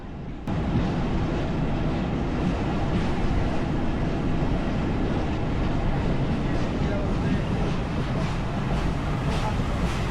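A train locomotive at Mongla railway station gives a steady, loud broadband rumble that runs unbroken for about ten seconds with no voices on top.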